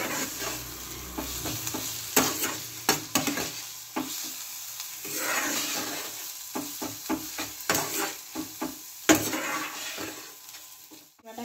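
Masala for a duck egg do-pyaza, with ground black pepper just added, is stirred and fried in a pan, the sizzle rising and falling under repeated scraping and clacking strokes of a spoon, close up with no talking.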